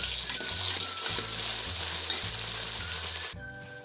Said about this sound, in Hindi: अब हम तेल में हरा मसाला शामिल करेंगे। जस्ट इसको 1 मिनट हम